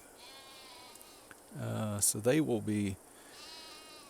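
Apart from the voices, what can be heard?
sheep bleating in Farming Simulator 22 video game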